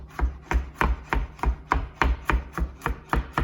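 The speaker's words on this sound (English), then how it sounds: "it takes a bit of effort if you want it really, really finely minced" A knife finely mincing food on a cutting board laid over a dishcloth, about a dozen steady, evenly spaced chops, close and crisp, with no talking.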